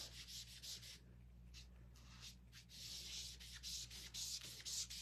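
Sandpaper rubs back and forth on a wooden Halloween craft board in repeated close, soft strokes with short pauses, faint against a low background hum.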